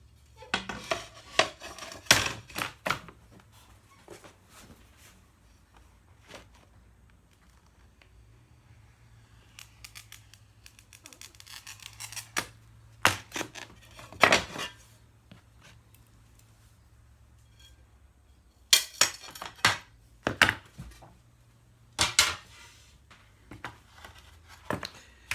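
Glass being cut for a stained glass butterfly pattern, with sharp scraping and clinking bursts in clusters between quieter stretches, close and fairly loud, no talking.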